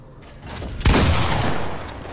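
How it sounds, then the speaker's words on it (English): Gunfire in a video game: a sudden burst of shots breaks in after a short quiet lead-in and then trails into a sustained rumbling wash of fire and echo. "someone else shooting at him too"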